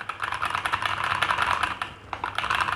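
Rapid, close clicking of keystrokes on a keyboard connected to a HONOR Pad X9 tablet through an OTG adapter, typed in quick bursts with a short pause, and no talking over it.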